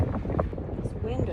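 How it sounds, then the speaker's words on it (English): Strong wind gusting across the microphone while sailing a boat on the Aegean Sea, a steady, rough blustery roar with water noise beneath and people talking over it. "This wind is strong"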